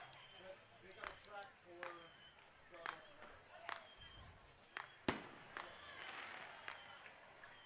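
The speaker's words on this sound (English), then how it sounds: "The fireworks display past right field is gaining intensity." Fireworks bursting past right field during a Fourth of July minor league baseball game, repeated distant pops and crackles scattered every second or so beneath a steady crowd murmur and a commentator's voice.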